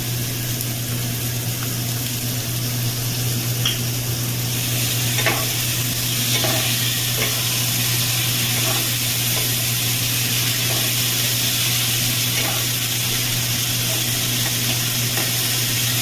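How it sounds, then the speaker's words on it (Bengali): Masala with tomato paste sizzles steadily in a pan as it is sautéed, a loud continuous frying hiss broken by scattered clicks and scrapes of stirring, with no talking. "মশলাটা আমি 3 মিনিট কষে নিই।"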